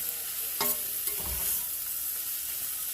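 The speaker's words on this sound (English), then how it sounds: "We just want this to cook until this cabbage gets good and tender." Shredded cabbage cooks in a pan, a quiet steady sizzle with a couple of brief stirring scrapes near the start, no voices.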